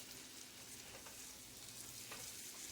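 Chicken sizzles and fries in a pan with a steady, faint hiss, broken by a couple of soft crackles and pops and no talk.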